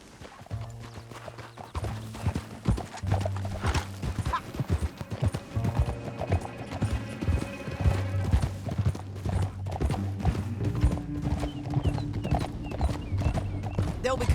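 Horse hooves gallop in a steady clip-clop rhythm in Red Dead Redemption 2, running continuously through the whole stretch under game music, with a voice speaking over parts of it.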